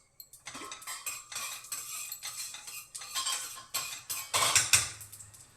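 A spoon stirs cumin seeds and peanuts in a cooking pot, giving a run of close, irregular scraping and clinking strokes with brief pauses between them.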